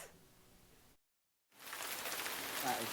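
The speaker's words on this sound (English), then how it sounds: "How's it out there in that rain" Soft patter that cuts out briefly, then returns as louder, steady rain falling on a surface.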